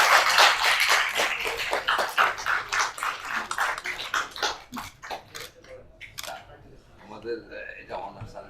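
Applause at the inauguration of the first conference of the Society of Medical Virologists, Bangladesh: a crowd claps loudly in a dense burst that tapers off, with voices speaking over and after it.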